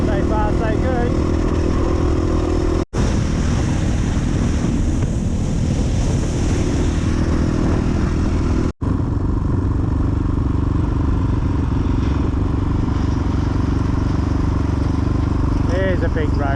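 A KTM 450 Rally motorcycle rides across the Simpson Desert in 40-degree heat, its engine droning under heavy wind buffeting, and a rider's voice talks over it.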